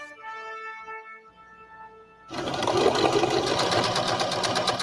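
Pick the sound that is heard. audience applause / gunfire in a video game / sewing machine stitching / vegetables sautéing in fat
sewing machine stitching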